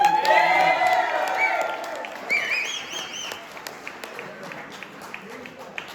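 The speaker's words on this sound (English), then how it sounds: "give Herb Eaton one more round of applause" Audience at a stand-up comedy night gives a burst of applause and cheering that starts loud and gradually thins out, with a few whistles and stray voices trailing off.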